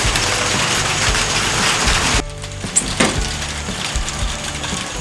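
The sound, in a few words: rain falling on pole barn roof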